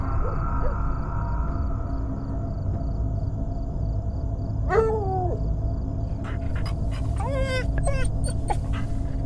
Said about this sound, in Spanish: perro está como inquieto, ¿eh?